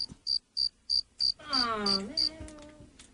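Cricket chirps played as a sound effect on a radio show, a series of short evenly spaced chirps followed by a brief rising tonal sweep mixed under the last few chirps.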